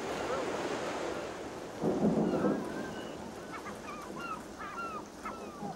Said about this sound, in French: le tonnerre se fracasse